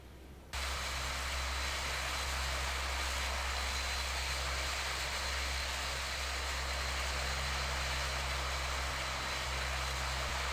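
Turboprop engines of a Q400 airliner taxiing in a flight simulator, a steady, loud droning hum with a low rumble and a constant high whine that holds evenly throughout, with no voices.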